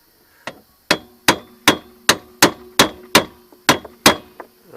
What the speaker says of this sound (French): On essaye de taper sur le plat de l'écrou.